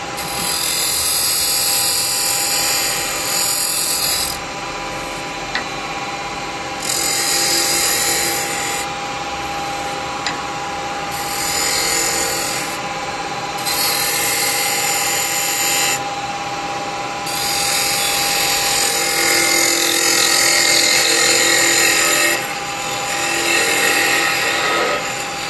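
Wood lathe turning a basket weave bud vase as a carbide detail chisel cuts, a constant close motor whine with repeated bursts of hissing, rasping cutting noise every few seconds, no talking.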